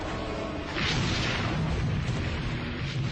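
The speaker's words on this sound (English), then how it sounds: "they ask the tank gunners to fire at the room and destroy it" Tank gun firing at a sniper's hotel room during the 2004 battle in Najaf, a heavy, roaring boom that swells and rumbles on without a break, with distant battle noise and no voices.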